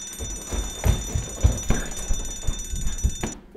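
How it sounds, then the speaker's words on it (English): A kitchen alarm sounds as a steady, high electronic tone over irregular low mechanical knocks and clatter, cutting off abruptly near the end. "Just turn the alarm off."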